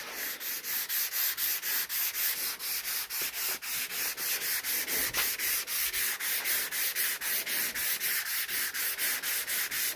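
Steady rhythmic sanding on the body panel of a 1986 Ford F-150 truck, a close, loud, rasping back-and-forth stroke repeating evenly throughout with no talking.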